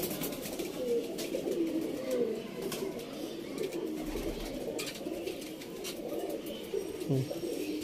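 Pigeons in a loft, soft low cooing that rolls on steadily through the whole stretch with faint chirps and a constant background hum, no clear talk.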